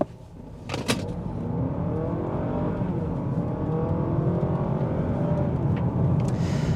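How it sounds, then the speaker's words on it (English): A 2025 Honda Accord Hybrid accelerating down a straightaway, heard from inside as a steady engine drone whose pitch climbs and steps as simulated gear shifts occur, with a couple of clicks near the start. "I'll let you hear them again in this straightaway"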